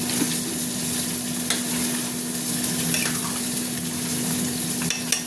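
A fish curry with ridge gourd, pumpkin and potato bubbles and sizzles in a pot. There is a constant close hiss with a faint hum, and small clinks of stirring come and go.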